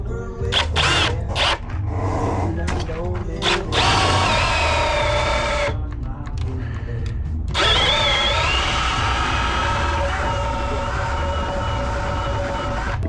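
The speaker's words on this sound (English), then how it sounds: "and then we come in with the paddle bit" A power drill with a paddle bit bores into wood during work on an old building, whining in several short bursts and then in two longer sustained runs.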